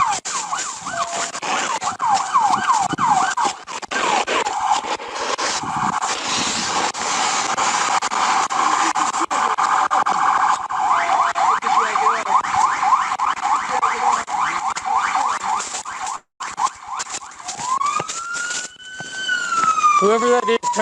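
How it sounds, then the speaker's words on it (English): An emergency vehicle siren wails loudly and continuously, its rising and falling sweeps repeating over steady engine and road noise, with voices talking over it and a fresh upward siren sweep near the end. "Whoever that is, turn your siren off."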